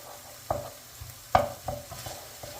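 Tomato paste sautéing in a pan for a chicken and cauliflower dish, heard as a soft steady sizzle broken by a few sharp scrapes and knocks of a spoon stirring, close and fairly quiet.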